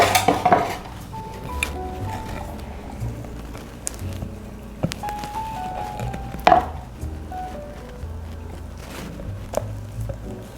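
Chocolate banana bread batter is scraped into a buttered loaf pan with scattered sharp clinks and soft scrapes of a utensil against the pan, close and intermittent, with quiet stretches between and no speech.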